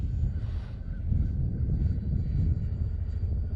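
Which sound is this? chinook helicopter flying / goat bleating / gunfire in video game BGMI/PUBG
chinook helicopter flying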